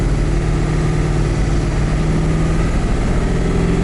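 A 7.3 Powerstroke diesel truck engine on 24-inch wheels pulls at about three-quarter throttle with a fresh tune, giving a steady, loud, low rumble that holds without a break and has no talk over it.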